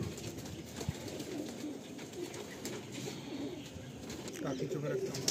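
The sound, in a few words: pigeons cooing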